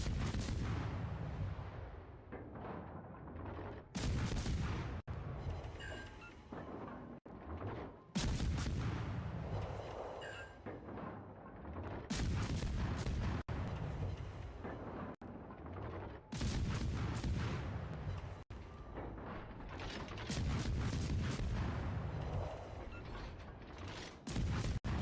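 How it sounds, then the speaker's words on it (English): Warship guns fire in a naval battle video game, with heavy booming salvos and rumbling blasts that come in repeated bursts separated by short, quieter gaps, loud and close. "And he's just fired his guns as well,"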